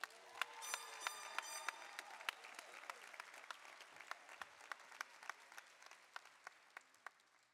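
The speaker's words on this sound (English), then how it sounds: "Let's celebrate these esteemed students with a round of applause." Audience at a high school graduation ceremony giving a round of applause, a broad sustained wash of clapping with sharper nearby claps standing out and faint cheering early on.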